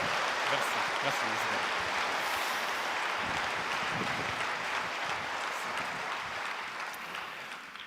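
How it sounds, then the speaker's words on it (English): Applause from a conference audience welcoming speaker Christian Kinnear, a dense steady wash of clapping that holds for the whole stretch and eases slightly near the end, with no voices over it. "Je vous demande un tonnerre d'applaudissements pour Monsieur Christian"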